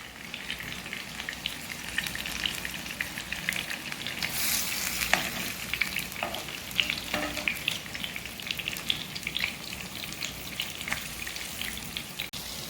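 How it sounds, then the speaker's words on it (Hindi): Green chillies stuffed with keema frying in oil, a dense even crackling sizzle with scattered pops and faint stirring, steady and fairly close, without speech. "इनको भी हमने 10 मिनट तक फ्राई कर लेना है"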